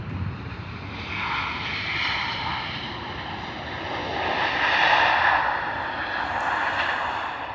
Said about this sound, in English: As we follow out this Ryanair that's just departed.